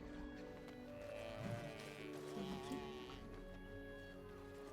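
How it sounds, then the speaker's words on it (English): Halla, the deer-like creatures of the Dragon Age Origins video game, give sheep-like bleating calls, a few wavering cries rising over a soft ambient background, moderately close. "Such interesting sounds they chose for the Hala. Like, not quite sheep."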